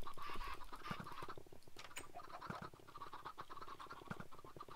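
Game chickens in Minecraft cluck and squawk in a busy, overlapping flurry, loud and close throughout, with many short repeated calls piling up during a chicken stampede into a pit.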